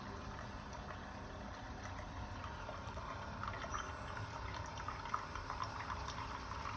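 Water streams steadily from a new coffee machine that won't stop dispensing, a continuous close pouring and trickling wash that runs the whole time with no talk.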